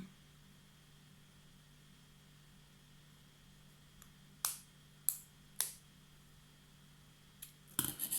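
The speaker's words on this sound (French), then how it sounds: "Ensuite, on peut couper les extrémités." Scissors snip through the cord ends of a homemade bracelet in a few sharp, close cuts, spaced apart and separated by quiet pauses, with a steady low background hum throughout.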